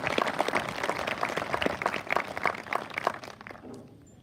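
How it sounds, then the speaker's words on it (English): Applause from a high school graduation crowd welcoming the new 8th grade class, a dense, steady patter of many hands clapping that fades out near the end. "Big round of applause for our new 8th grade."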